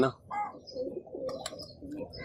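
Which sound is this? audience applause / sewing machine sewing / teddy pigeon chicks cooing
teddy pigeon chicks cooing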